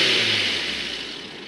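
A warm Honda S2000 engine revving, a brief buzzy engine note that fades as the revs drop, heard close with no talk.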